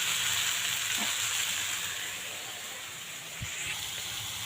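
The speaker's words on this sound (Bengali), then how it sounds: "আর এই দেখুন সুন্দর করে মশলাটা নাড়াচাড়া করছি, এটা কিন্তু আঁচ কমিয়ে করছি" Spice masala of chilli powder, turmeric and salt frying on a low flame while being stirred, a steady soft sizzle with occasional scraping stirs, close and continuous, without speech.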